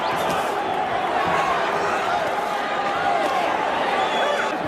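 A boxing arena crowd in New York roars steadily through a tenth-round heavyweight bout between Mike Tyson and James Tillis, a dense, continuous wash of cheering and chatter that holds loud from start to finish.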